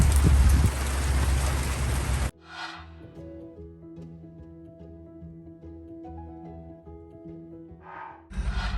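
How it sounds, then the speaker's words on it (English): Loud, steady rain hisses and patters with wind on a sailboat during a haul out, cuts abruptly to a quieter humming stretch, then returns briefly at the end. "Now it's raining and wind."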